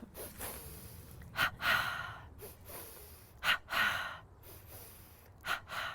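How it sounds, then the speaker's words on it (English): Yoga breathing exercise with a double inhale through the nose and a forceful ha exhale through the mouth, repeated in a steady rhythm of sharp audible breaths, close and alone. "you're going to be breathing in twice through the nose, like this, and then out through the mouth, like kind of like a ha breath"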